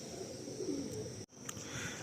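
Low cooing from pigeons in a large pigeon loft in South Kolkata carries softly and steadily, briefly cut by a gap, with a faint high tone above.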